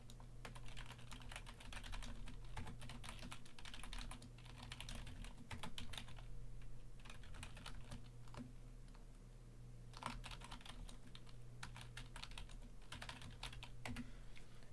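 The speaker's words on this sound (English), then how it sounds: "I'm typing the Discord right now too." Typing on a computer keyboard, with steady clicking keystrokes in bursts close to the microphone, over a low constant hum and no talking.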